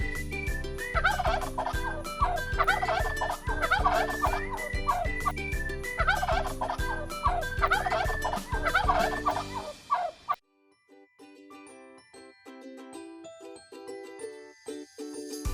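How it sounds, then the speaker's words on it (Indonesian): Turkey gobbling in loud, rapid bursts repeated over about ten seconds, with a long gobble rattle, followed by quieter intermittent clucks and calls. "Turkey."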